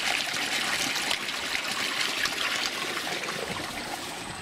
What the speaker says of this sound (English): That's the other end of the water coming out.